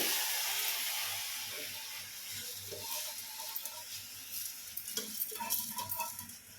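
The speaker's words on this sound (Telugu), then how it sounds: "కేజీ రైస్ కదా వేసి ఒకసారి అంతా కలుపుకోవాలి" Soaked rice is stirred into a sizzling pot for bagara rice, a soft hiss beneath intermittent scraping and clattering strokes of a spoon against the pot, close and moderately quiet.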